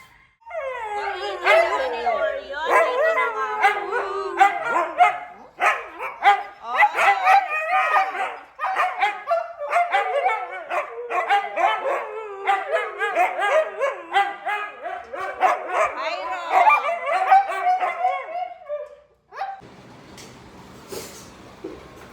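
A dog at the house next door barks close and loud in a long run of repeated barks and yips with few pauses, then goes quiet at the end, giving way to a burst of hissing noise.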